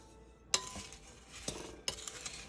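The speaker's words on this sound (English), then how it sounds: "We are going to mix this up." Spoon stirring Italian sweet cream coffee creamer ingredients in a container, with a few sharp clinks against the side amid soft swirling, close and fairly quiet.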